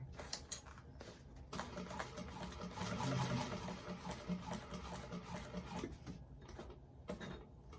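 Sewing machine stitching a bag, a steady run of rapid mechanical stitching with short pauses and restarts, close and moderately loud.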